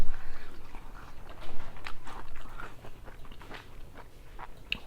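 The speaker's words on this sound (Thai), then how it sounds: "eating vegetables right now." Close, moist chewing and crunching of vegetables at a dinner meal, an irregular run of bites and soft mastication that fades slightly toward the end, with no talk over it.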